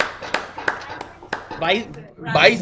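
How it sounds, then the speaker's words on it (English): Audience clapping in a slow, even beat of four sharp claps about a third of a second apart, followed by voices talking close by. "We applaud you."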